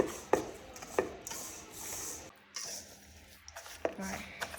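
Stiff cookie dough being whisked in a bowl, giving soft scraping and dull knocking strokes at an irregular rhythm, fairly quiet and close.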